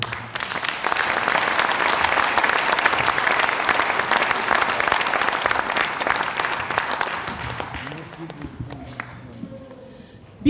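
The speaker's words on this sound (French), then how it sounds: "on applaudit Jean" A cabaret audience applauds a superhero-themed performer, a dense, sustained round of clapping that holds strong for most of the stretch before tapering off near the end, with some voices mixed in.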